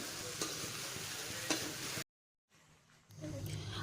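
Meat and potatoes fry in a pan while being stirred, with a soft sizzle and scraping strokes, a brief silent gap, then the frying resumes more faintly.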